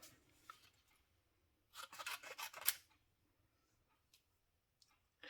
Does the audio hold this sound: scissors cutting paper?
yes